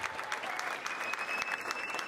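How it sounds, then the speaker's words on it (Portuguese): Audience at a hypnosis stage show breaking into applause, a dense steady wash of many hands clapping throughout the short moment. "Uma salva de palmas para os nossos astros."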